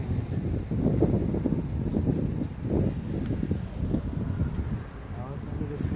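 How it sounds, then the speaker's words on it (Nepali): Strong wind buffets the microphone on an outdoor walk to a bus stand along the Corniche, a continuous loud low rumble with gusty surges and a voice partly under it. "हावाले गर्दा केही सुनिएको छैन गाइस"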